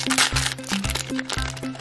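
Thin plastic film on a doll surprise capsule crinkles and crackles in a steady run of close rustles, with a low repeating tone beneath.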